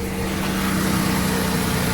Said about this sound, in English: Yeah, the exhaust is leaking.